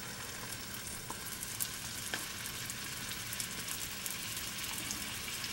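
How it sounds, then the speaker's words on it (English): Frozen vegan meatballs searing in olive oil in a pan over medium heat, a faint steady sizzle and crackle with small pops throughout, no talking. "sear your meatballs in olive oil"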